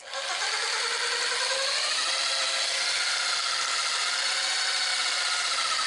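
A homemade massage gun's motor runs in a steady, high-pitched buzzing whine whose pitch wavers slightly mid-run, heard close and alone.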